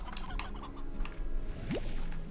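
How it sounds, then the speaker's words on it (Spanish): Chickens cluck in the video game Slime Rancher, several short repeated clucks and squawks close by against a steady background hum, with no talking. "Y tenemos gallinas aquí."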